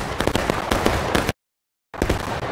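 Musket volley fire in the Civil War game War of Rights: dense crackling rifle shots in quick succession, a sudden break of silence, then more sharp overlapping reports.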